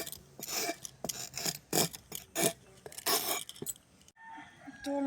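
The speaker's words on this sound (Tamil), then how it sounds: "இது மாதிரி சுரண்டி எடுத்தீங்கன்னா கரண்டியில் அழகாக தோல் மட்டும் வந்துடும்." Spoon scraping the skin off a vegetable for sambar, a run of rough rasping strokes close up, rhythmic and fairly loud, ending with a brief quieter pause.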